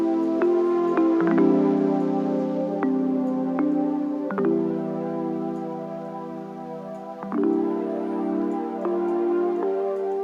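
Soft piano chords ring out slowly and sustain, with a muffled, slightly hazy tone and faint clicky crackle, with no voices.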